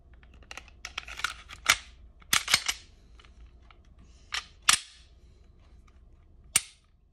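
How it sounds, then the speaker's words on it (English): Sharp dry-fire clicks from a Glock pistol fitted with a new CMC trigger, a handful of crisp snaps spaced irregularly over quiet handling noise, close and fairly faint. "Let's go ahead and put our slide back in and test the trigger."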